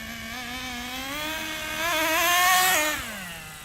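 A Schumacher Menace GTR nitro RC car engine runs at a high, buzzing whine. It climbs in pitch and volume as it revs, then drops back near the end, heard up close with no talk.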